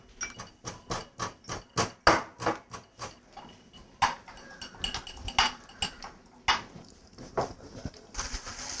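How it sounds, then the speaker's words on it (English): Cardamom pods pounded by hand in a kitchen, a run of sharp, evenly spaced knocks, loud and close, that grows more irregular partway through, with clinks of utensils between the strikes. "Arjun can pound a few of this cardamom."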